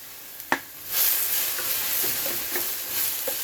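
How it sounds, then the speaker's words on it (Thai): Winged beans and large chilies tossed into a hot pan for a holy basil stir-fry, a sudden loud sizzle after a clatter, then steady frying hiss with scraping stirs at close range. "เราจะกินแบบผัดกะเพราถั่วพู พริกผัดกะเพราเราได้แล้วใส่ถั่วพูเลยค่ะ"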